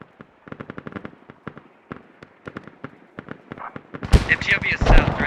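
Grenade launcher and automatic gunfire in Squad, a military shooter: a rapid series of sharp cracks and bursts, then a dense, louder cluster of blasts and explosions near the end, with voices faintly under it.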